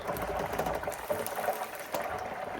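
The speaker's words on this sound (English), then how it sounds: "And we're going to fry these, like I said, for 6 minutes" Steady crackling sizzle of chicken wings frying in hot oil, dense and continuous with scattered pops, fairly close.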